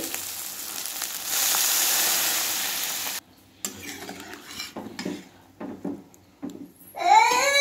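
Water poured into a hot pan of fried eggplant with ginger and cumin paste, a loud steady hiss and sizzle for a few seconds, then quieter clinks and stirring sounds of utensils against the pan.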